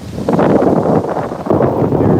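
Steady wind roars across the microphone beside a lifeguard tower on a windy beach morning in Playa del Carmen, a continuous loud rushing with gusty swells and no voices.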